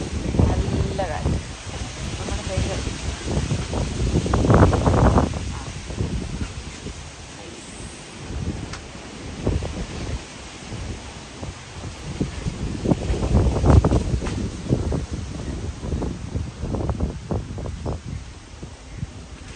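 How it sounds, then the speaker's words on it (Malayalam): Strong wind gusts outdoors at a home garden buffet the microphone in rising and falling rushes, with someone talking intermittently over the noise. "നല്ല കാറ്റ്."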